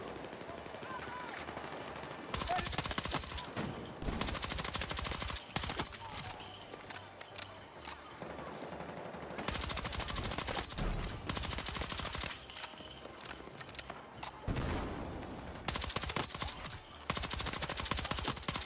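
SMG gunfire in Battlefield 6 multiplayer: loud, rapid automatic bursts rattling in repeated volleys with brief gaps, layered over steady battlefield din.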